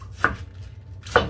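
Two sharp knife strikes against a cutting board as vegetables are finely cut for dumpling filling, close and distinct with a short quiet gap between them and a faint low hum underneath.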